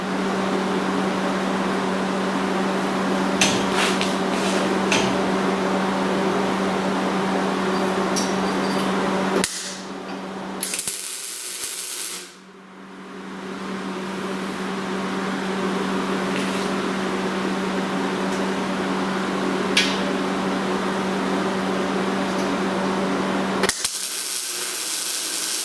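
Welding on the front bumper of a V8-swapped Crossfire in a driveway: a steady close buzz with crackling bursts runs throughout, breaking off briefly around the middle and again near the end.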